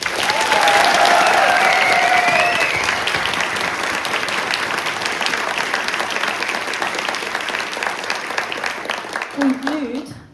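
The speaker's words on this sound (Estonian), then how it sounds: "nii teeme neile ühe julgustava aplausi veel." A loud, dense wave of audience applause rewards young child singers at an Estonian music studio's birthday concert, sustained for about ten seconds, with whistle-like tones early on and a voice briefly emerging as it fades.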